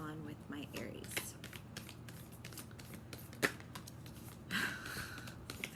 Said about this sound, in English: y'all just witnessed me shuffle these cards